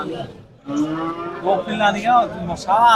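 A crossbred cow moos loudly several times in a row at a cattle market, long wavering calls close by, with faint crowd murmur behind.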